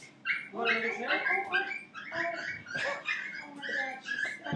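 A dog whimpers and whines in a continuous, high, wavering run of yips and cries after getting stuck on stage at a live show, close and fairly loud, with no clear talk.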